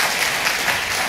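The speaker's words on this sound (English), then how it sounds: "Yes, you can clap if you'd like to clap for him" Audience applause at a community webcast event fills the whole brief moment, a dense steady wash of clapping with no talk over it.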